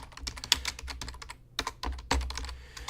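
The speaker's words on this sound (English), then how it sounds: "Let me type in Hoskinson and Charles." Rapid typing on a computer keyboard, a close, steady patter of clicky keystrokes with a brief pause midway and no talking.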